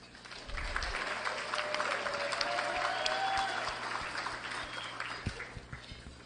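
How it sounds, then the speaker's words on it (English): A gala audience breaks into sustained applause after an introduction. Dense clapping builds and holds, with a few louder nearby claps and thumps as it fades. "How about a round of applause for Khurram?"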